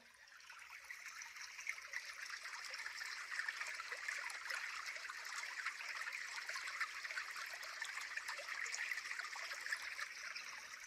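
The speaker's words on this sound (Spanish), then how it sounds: "Ahora deja que el sonido del agua te lleve." Steady flowing water, a continuous trickling stream with bright splashing texture, moderately faint and unbroken throughout with no voices.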